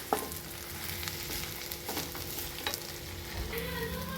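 Ingredients roasting in ghee in a pan for Wayanad-style buffalo leg curry, a soft steady sizzle with scattered scraping stirs, close and quiet.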